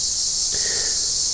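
Cicadas buzz in a steady, high-pitched drone that fills the whole moment evenly, loud and unbroken, with a cat nearby during cicada season.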